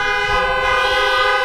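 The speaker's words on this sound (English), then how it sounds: "You can honk your amen." Car horns honking together in a parking lot during a Thanksgiving drive-in worship service, a sustained chorus of overlapping tones that holds loud and steady for the whole moment, with no voices over it.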